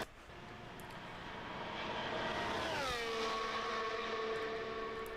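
Williams Formula 1 car engine running steadily, a loud sustained whine with harmonic tones that sweep downward near the middle then hold at a lower pitch, heard alone with no talk.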